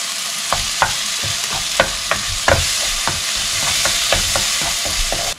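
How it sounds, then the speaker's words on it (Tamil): Ginger garlic paste sautéing with softened tomatoes in a pan, stirred by a spoon, with a steady close sizzle and repeated sharp scraping clicks of the utensil against the pan. "இஞ்சி பூண்டு பேஸ்ட் சேர்த்துக்கலாம்."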